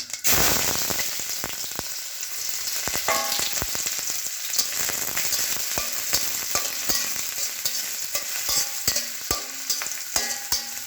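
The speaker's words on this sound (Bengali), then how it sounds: "পেঁয়াজটা হালকা করে ভেজে নেবো" Onion frying in hot oil with cumin seeds while mixed vegetables are cooked, a steady loud sizzle with frequent scraping spatula strokes against the pan throughout.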